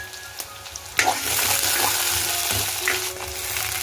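Onion and curry leaves hit hot oil with mustard seeds in a home kitchen pan and set off a sudden burst of loud, steady sizzling. The frying continues with a few small pops and stirring sounds.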